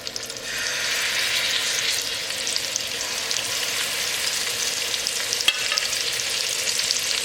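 Pork chops fry in melting butter in a hot pan on a high flame, giving a steady, loud, close sizzle that holds evenly from start to finish with no talking.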